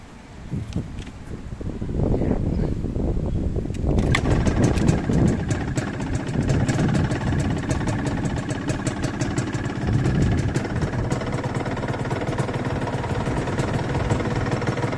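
Yamaha TZR 150 motorcycle, stock condition, kicks into life after a brief crank and settles into a loud, close, crackling two-stroke idle that runs steadily for many seconds with no talking.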